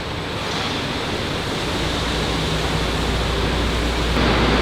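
An industrial paint line at a UTV rack factory runs with a steady, dense broadband wash, a constant airy hiss and rumble like rushing air or spray booths, loud and unbroken, with no voices.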